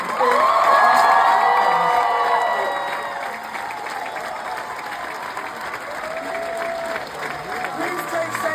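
At a Moulin Rouge theatre show, a crowd claps and cheers loudly for the cast, with whoops and shouts on top of dense applause that is strongest at first and then eases to a steadier patter with a voice over it.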